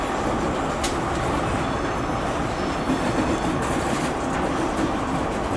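A Great Western Railway train runs at Bristol Temple Meads station, giving a steady, loud rumble of rolling stock with faint wheel clatter and an occasional brief squeal, continuous throughout.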